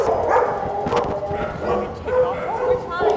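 A Dutch Shepherd barks and yips repeatedly during a dog fight, close and loud, with whimpers mixed into an uneven run of sharp bursts.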